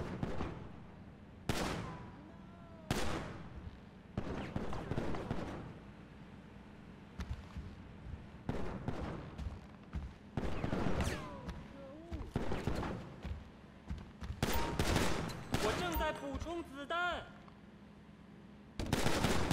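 Repeated gunshots and bursts of automatic fire at a shooting range in GTA 5, played in first person, sharp and close with gaps between volleys and some speech-like sounds mixed in.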